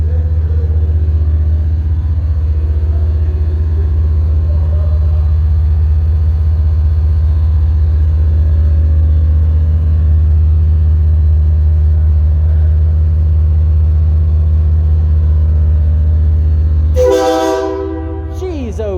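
A truck at an indoor auto show, a Titan trike on display nearby, holds a loud, steady low engine drone throughout, then cuts out near the end as a brief burst of voices and clatter rises.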